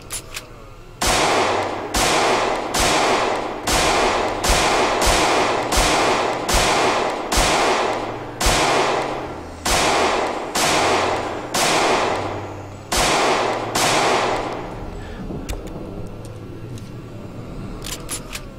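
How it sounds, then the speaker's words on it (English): A rapid series of loud, sharp gunshots in the video game Project Zomboid, about fifteen in steady rhythm, each cracking close and decaying, with a low game hum underneath. "this gunshot is so loud"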